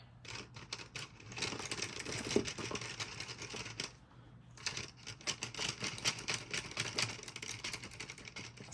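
Paint brush being cleaned off during an earring blank painting session, a busy, fast rattling and rubbing noise running continuously with a short pause midway, fairly close.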